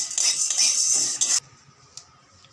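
Metal spoon scraping and stirring ginger with chana dal and peanuts in a pan for idli chutney: a loud, close rasping scrape for over a second, then near quiet with a single light clink.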